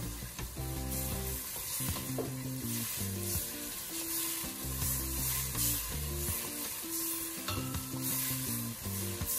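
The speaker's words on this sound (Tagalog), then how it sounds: "stir lang natin hanggang sa medyo matuyo ang toyo" Food fries in a pan with soy sauce, a continuous loud sizzle under regular scraping stir strokes, close up, with no talking.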